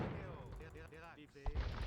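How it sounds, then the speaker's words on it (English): A bomb cannon fires in a medieval strategy game, giving a heavy, muffled boom amid quieter battle noise, while a voice talks faintly. "there you see a first bomb cannon"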